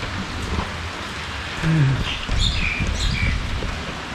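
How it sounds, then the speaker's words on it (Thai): Steady morning rain hisses outdoors on Thung Wua Laen beach by the sea in Pathio, with a broad wash of noise and a few brief squeaky tones cutting through. "เช้านี้ฝนตกริมทะเล"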